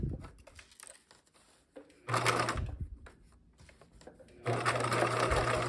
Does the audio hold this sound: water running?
no